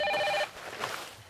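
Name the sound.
cell phone ringing during a speech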